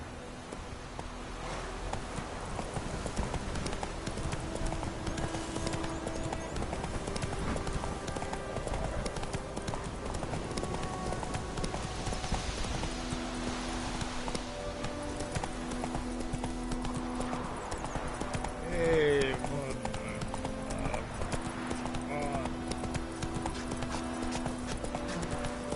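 Roach the horse galloping in The Witcher 3: Wild Hunt, a steady rhythmic clip-clop of hooves running continuously over ambient game music, with a brief whinny-like flourish near the end.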